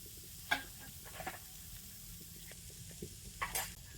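Freshly grated coconut stirred in a hot kadai, a low steady sizzle with a few scraping stirs and soft clicks of the spatula, close and fairly quiet.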